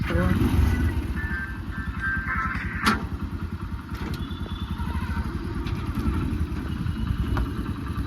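A farm vehicle fitted with MRF tyres reverses, its engine running at a steady, rapid putter close by. One brief sharper knock sounds midway.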